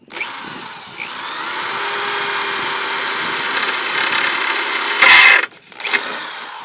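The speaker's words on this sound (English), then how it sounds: "And just let the drill bit do its job." A power drill whines steadily as it bores through metal for a skateboard grind box, then speeds up briefly with a harsher grinding burst before stopping and restarting.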